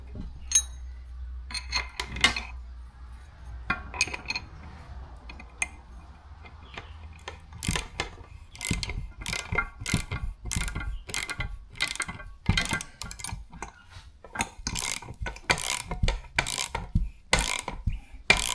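A nut is wound down on an e-bike frame bearing kit, giving a quiet run of rapid ratchet clicks in bursts, close and fairly faint, with a low hum early on.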